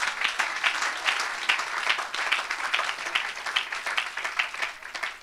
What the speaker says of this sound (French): Est-ce qu'on peut les acclamer encore?